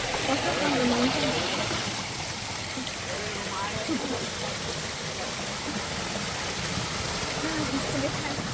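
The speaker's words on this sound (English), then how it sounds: "Waterfall on the mountain." A waterfall on a mountain in Lombok, Indonesia rushes in a constant, broad wash of falling water while people talk nearby over it.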